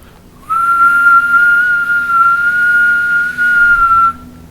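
Single sustained, steady human whistle held for about four seconds, loud and close, imitating a group of lantern-headed goblins whistling in unison in a Dungeons & Dragons session; no talking.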